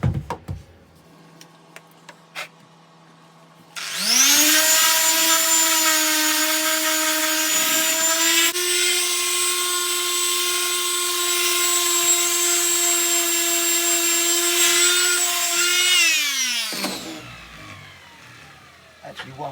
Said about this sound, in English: so let's carry on sanding